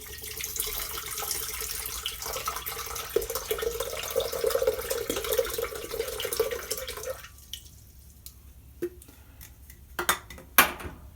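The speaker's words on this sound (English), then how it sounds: "So the first thing you want to do is add your coconut water." Coconut water pours steadily into a blender for a green juice, a bright liquid trickle for several seconds, then stops, followed by a few light clinks and taps.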